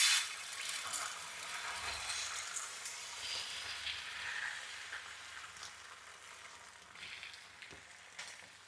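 Oil and butter sizzle in a pan, a quiet, steady frying hiss with light crackles and a few faint clinks, strongest at the start and easing slightly over time.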